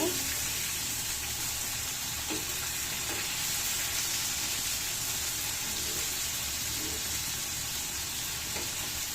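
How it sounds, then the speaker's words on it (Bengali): Fish fries in hot oil in a spiced curry base, a continuous loud crackling sizzle with a few faint clinks, steady throughout. "আমি এখানে মাছগুলো একদম ভালো মতো ভেজে নেব"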